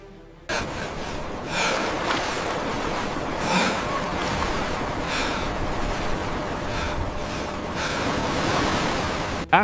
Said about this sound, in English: Silence returns, broken only by the sound of the sea.